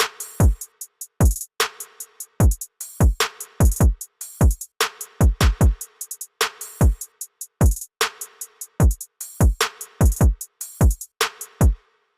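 A programmed hip-hop drum beat made in FL Studio: punchy kicks with deep pitch-dropping tails and crisp snares or claps in a steady repeating pattern, loud and dry.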